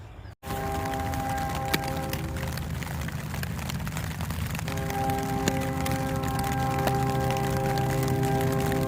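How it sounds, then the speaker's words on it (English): Rain drumming steadily on a tent during a storm while hiking the American Discovery Trail, a dense continuous patter close overhead with a low rumble underneath and no talking. "rain hitting the tent"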